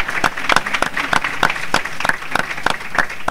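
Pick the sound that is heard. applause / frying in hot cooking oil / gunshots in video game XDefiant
applause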